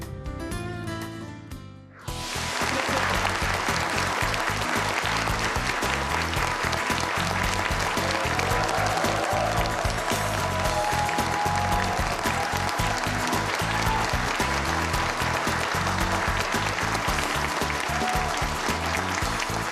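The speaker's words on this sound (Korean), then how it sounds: "이렇게 박수를 많이 쳐주시니까" After a brief sound at the start, a lecture-hall audience bursts into loud, thick applause for a philosophy lecturer, a continuous wall of clapping that stays at full strength without fading.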